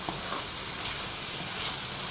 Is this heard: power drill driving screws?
no